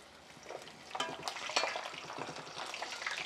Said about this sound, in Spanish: Ahora voy a poner a dorar la cebolla